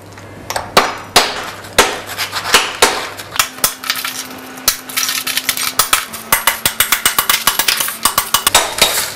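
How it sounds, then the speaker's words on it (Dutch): A small kitchen hammer cracks hardened homemade peppermint candy into pieces, with sharp, loud, irregular knocks that quicken into a rapid tapping run toward the end. "met een klein hamertje of iets anders uit die keuken, kunt u de pepermunt in kleine stukjes breken"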